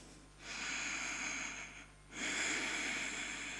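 Two slow, audible breaths through the nose are taken while holding a yoga pose. They are close and soft, separated by a short pause.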